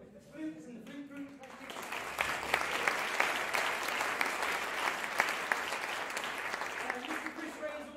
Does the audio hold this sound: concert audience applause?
yes